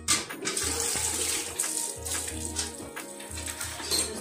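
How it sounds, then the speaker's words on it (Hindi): Water runs from an outdoor village tap into a vessel for cooking, a steady splashing gush with rhythmic pulses from the pump-style flow, close and alone. "तो अभी हम आए हैं नलके पे पानी भरने खाना बनाने के लिए।"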